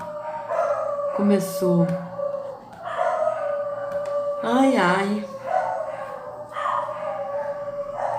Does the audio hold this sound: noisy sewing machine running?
no